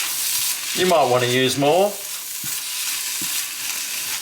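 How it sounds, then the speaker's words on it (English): Passata goes into a frying pan of sizzling corned beef, giving a steady bubbling sizzle and some stirring under a person's brief spoken remark. "So now I'll add about half a jar of passata here."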